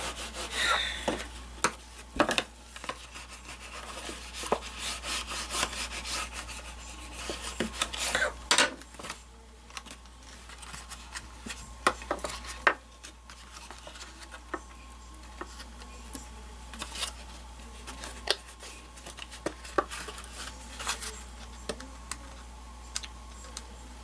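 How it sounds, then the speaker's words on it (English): A bone folder rubs the inside of a paper box, giving soft, continuous scraping strokes with scattered faint taps and clicks, close and quiet throughout. "I'm going to take my bone folder and rub the inside, make sure that's down very well."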